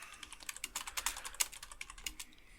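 Quick, irregular clacking of keys on a computer keyboard, close and clear, a steady burst of keystrokes with no voices.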